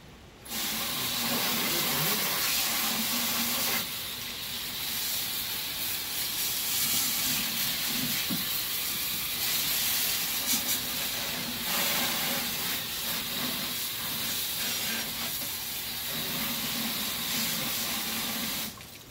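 A walk-behind spreader's axle and the underside of its hopper are washed with a spray of water, a steady, close hiss that runs for nearly twenty seconds with a few brief dips.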